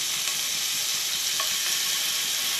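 Chicken lechon frying with bottle gourd in a pan, a steady, close, loud sizzle of hot oil filling the whole stretch with no talk.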